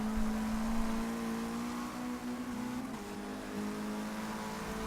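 A race car engine in Forza Motorsport 6 drones steadily at high revs during a touring car race, holding a fairly constant pitch with a brief dip and shift near the middle, fairly quiet and without speech.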